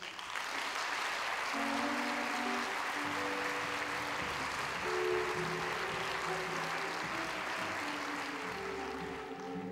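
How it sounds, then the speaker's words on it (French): Sustained audience applause fills a short-film festival night, a steady, dense wash of many hands clapping at fairly even loudness from start to finish. "Vous l'applaudissez, s'il vous plaît."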